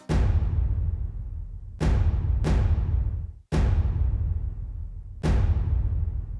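Five booming orchestral cinematic impacts made in FL Studio, each a heavy low hit with a bright crack on top that rings out and fades. They arrive at uneven intervals with no talking.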